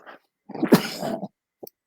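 A single close sneeze, a short sharp burst with a quick intake before it and a faint breath after, alone in a quiet room.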